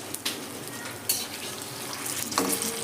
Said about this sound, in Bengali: গ্যাসের ফ্লেম কিন্তু হাই করেই ভাজছি।